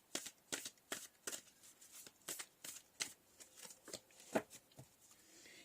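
Oracle cards being shuffled for a tarot reading, a rapid run of crisp riffling bursts close to the microphone, repeating for several seconds in a quiet room.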